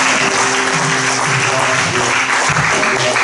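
A church congregation claps and cheers loudly in praise, a dense continuous wash of applause with voices mixed in, steady for the whole moment.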